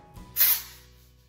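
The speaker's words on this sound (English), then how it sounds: "I turn my head upside down and I get the nozzle into the roots and spray." Dry shampoo aerosol sprayed into hair roots with the head turned upside down, a single short hissing burst of about a quarter second, close and fairly loud, after a soft rustle.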